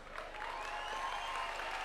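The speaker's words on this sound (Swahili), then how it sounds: "simama tukupige makofi" A seated audience at a State House gathering of UDA governor aspirants applauds with steady, dense clapping that holds level throughout. Loud and close, with no words spoken over it.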